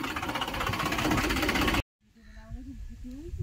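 A tractor engine runs loud and close while ploughing a farm field, chugging steadily for under two seconds before cutting off abruptly. A voice follows the cutoff.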